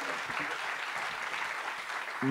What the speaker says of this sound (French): On va remercier nos intervenants par quelques applaudissements